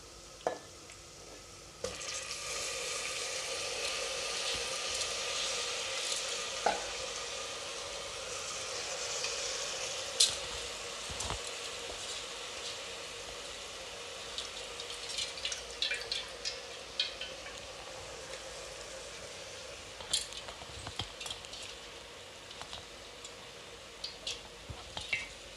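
Washed rice frying with masala in a pan, a soft steady sizzle under repeated scraping and stirring strokes of a spoon, with scattered clicks and taps growing busier toward the end, close and fairly quiet.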